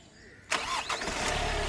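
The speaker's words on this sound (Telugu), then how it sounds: "ఒకసారి ఇంజన్ స్టార్ట్ చేయి" After a brief quiet moment, a 2021 Kia Sonet HTX Plus engine cranks and catches on one try, then settles straight into a smooth, steady running hum close by.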